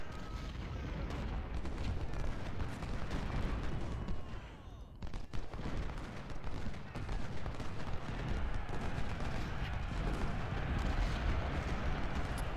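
Artillery and musket fire rumble through a battle in the Ultimate General Civil War strategy game, dense booms and crackling volleys layered continuously at low to moderate volume, with no talking.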